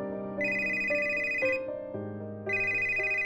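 A telephone rings with a bright, melodic electronic ringtone, its repeating tone pattern loud and close, sounding alone with no voices.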